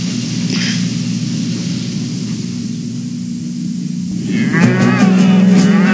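Cattle lowing in open cattle country with coal mining nearby, a steady noisy wind-like background for several seconds, then a loud, drawn-out moo rising near the end, close and clear.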